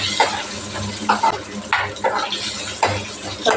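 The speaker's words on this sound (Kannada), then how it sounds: "ಒಂದೆರಡು ಸ್ಪೂನ್ ಆಗುವಷ್ಟು ಉದ್ದಿನ ಬೇಳೆ ಫ್ರೈ ಮಾಡ್ಕೊಳ್ಳಿ" Urad dal frying in hot oil, a steady soft sizzle with repeated scraping stirs of a spoon against the pan, close and alone without voices.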